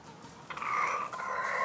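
Kelso game rooster clucking on a farm, a short burst of close, fairly loud clucks and calls with no talk.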